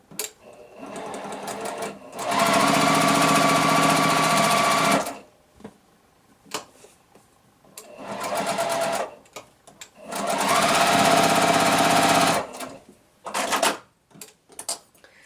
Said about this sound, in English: Just line up the two corners and edges and sew on that drawn line again.